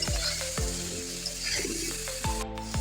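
Spices sizzle in hot oil for a cauliflower curry, a steady frying crackle overlaid with several sharp metallic clanks of a utensil stirring against the pan, close and fairly loud.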